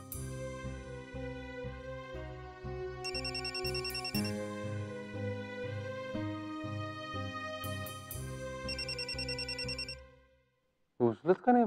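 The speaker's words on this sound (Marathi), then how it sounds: "उचलत का नाही फोन?" A telephone rings again and again in a repeating electronic ringtone pattern, loud and close, going unanswered for about ten seconds before cutting off, after which a voice briefly speaks.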